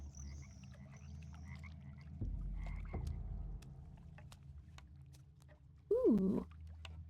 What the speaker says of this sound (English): Natterjack toad has such a loud croak it can be heard as far as half a mile away.